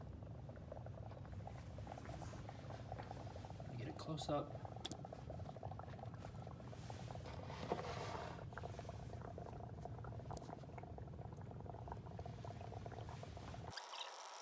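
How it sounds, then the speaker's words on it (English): Dry ice dropped into a container of soapy water bubbles and churns softly and steadily at close range, while a person speaks briefly over it. "when I drop the dry ice into the container of soapy water"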